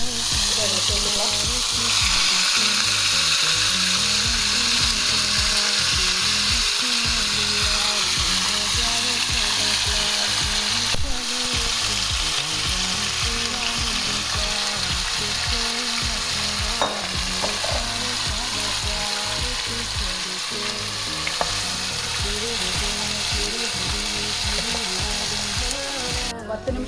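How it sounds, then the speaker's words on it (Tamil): Marinated jackfruit fries in hot oil in a kadai, with a continuous loud sizzle and repeated scraping and stirring throughout. "மேரினேட் பண்ணி வச்சுருக்கிறத இப்போ ஃப்ரை பண்ணி எடுத்துக்கலாம்."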